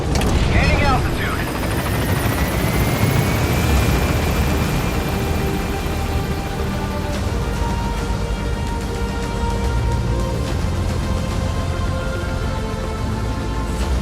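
Helicopter in the Metal Gear Solid 5 video game climbing after takeoff, a steady loud rotor roar with a rising engine whine that runs throughout.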